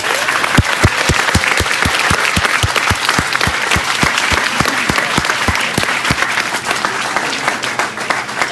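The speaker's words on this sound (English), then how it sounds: "Can you give him another round of applause?" A conference audience at the Low Carb Conference applauds after Dr. Tony Hampton's talk with loud, sustained clapping that fills the room. A steady rhythmic thud runs beneath it the whole time.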